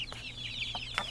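Hens cluck and squawk excitedly at breakfast time in a garden, with a few short, quiet calls overlapping across about a second.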